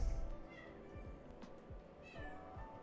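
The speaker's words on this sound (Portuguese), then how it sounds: "Se vocês escutarem um miado, é minha gata dando a louca no corredor" A house cat meows repeatedly in a hallway, a string of short, fairly clear cries over a low background hum.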